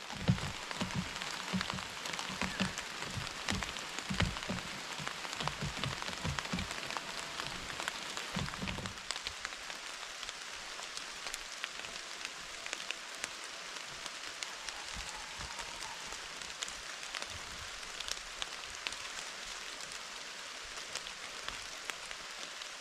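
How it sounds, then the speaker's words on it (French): Steady rain falls through a forest during a driven boar and deer hunt, a dense even hiss with scattered drop patter. The first nine seconds are louder and fuller, then the rain continues softer and constant. "alors que nous sommes de nouveau accompagnés de la pluie"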